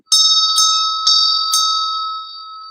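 A clear bell is struck four times at a steady pace, and each ring blends into a bright, sustained tone that slowly fades with no voices present.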